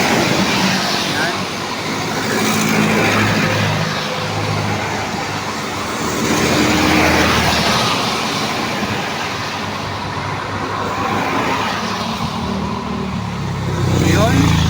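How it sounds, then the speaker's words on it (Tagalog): Traffic on the Maharlika Highway between Lopez and Gumaca in Quezon, a continuous loud roar of passing vehicles that swells and fades as each goes by, with someone talking over it. "patuloy na dumadaloy mga idol ang mga sasakyan"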